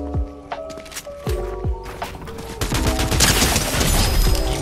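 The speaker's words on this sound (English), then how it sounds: "you're carrying an auto shotgun" Auto shotgun blasts in the video game Unreal, several loud booming shots in quick succession with ringing tails, building into a dense fusillade of gunfire.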